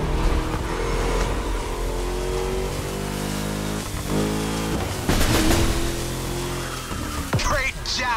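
A car engine in the racing video game The Crew Motorfest revs up with rising and falling harmonic sweeps, loud and continuous, with tire squeal toward the end.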